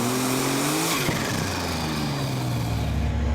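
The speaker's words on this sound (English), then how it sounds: "And the engine being dragged down a little bit today" A Superstock-class pulling tractor's engine roars loud and near at the Eurocup tractor pull in Brande, Denmark, its pitch sagging as the load drags it down, with a steady heavy drone throughout.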